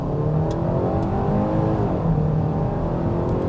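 2025 Hyundai Tucson SEL Convenience in sport mode, accelerating hard from a standstill, a loud, continuous engine rise heard from inside the cabin with shifting pitch and no talking.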